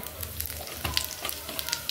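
Cumin seeds frying in oil alongside bay leaves for khichuri crackle and sizzle up close, a busy, short spell of popping over a steady hiss without any talk.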